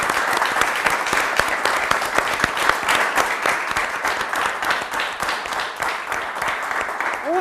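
Studio audience applause on a Telefriuli quiz show, steady dense clapping that holds loud throughout, with a brief whistle or tone near the end.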